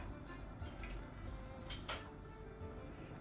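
An egg snack being flipped over in a pan on the stove, with a few light clinks and scrapes of utensil against the pan over a steady low background hum.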